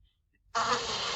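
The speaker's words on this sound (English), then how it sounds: "So all these drone bees are balling, and they're going to end up killing the queen" Honeybees balling around their queen make a sudden, dense, steady buzz that starts abruptly after a moment of near silence and continues loudly to the end.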